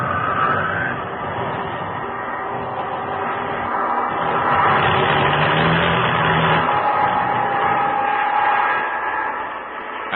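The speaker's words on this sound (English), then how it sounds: "Engine trouble." Aircraft engine running rough during engine trouble aloft in an old radio drama, a steady droning motor with wind-like rushing noise that swells in the middle and fades slightly near the end, with no voices.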